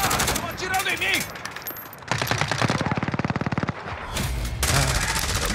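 Rapid automatic gunfire bursts in a Call of Duty: Modern Warfare multiplayer Domination match, loud and close, with pauses between volleys and distant shots in the background.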